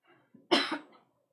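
A single sharp cough from an adult crafter at a desk, close and dry, preceded by a faint throat noise and trailing off quickly into silence.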